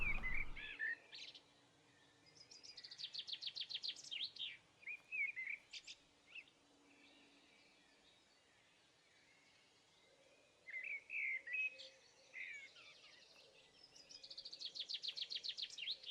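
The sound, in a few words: grouse calling in the video game UnReal World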